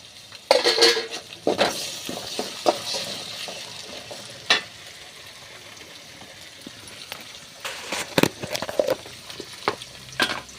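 Tomatoes frying in a pan for a garlic curry sizzle steadily while a spoon stirs and clatters against the pan in irregular bursts, loud clinks scattered across the clip, with no speech.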